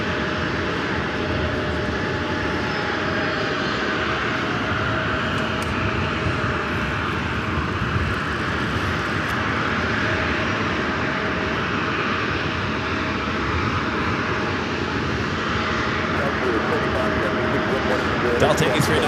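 A Delta airliner lines up on runway 19R at LAX, its engines making a loud, steady roar that holds for the whole stretch, with voices talking over it.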